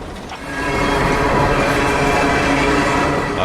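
Loaded coal train wheels rolling steadily over freshly ground rails, a continuous broadband rumble and grinding roar that swells in after a moment and holds loud and near throughout.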